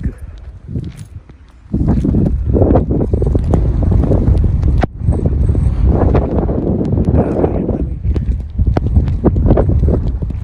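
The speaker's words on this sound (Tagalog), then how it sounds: "Narinig yung hangin." Strong wind roars in heavy gusts against the microphone during a wet snow squall in Edmonton, quiet at first, then a loud, sustained buffeting rush that keeps pulsing for several seconds.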